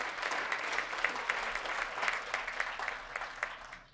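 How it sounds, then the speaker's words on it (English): A city chamber State of the City 2023 audience applauds its sponsors with moderate, fairly close clapping that swells and then tapers slightly over a few seconds. "Let's applaud those folks."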